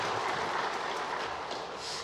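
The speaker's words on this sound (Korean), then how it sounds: "우리 이 모든 영광 하나님께 영광의 박수 올려드리겠습니다" A church congregation applauding during a Sunday worship service, a dense, even wash of many hands clapping together that stays steady throughout.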